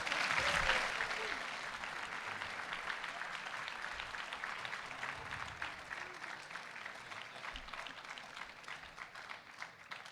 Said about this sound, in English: we can give a round of applause for that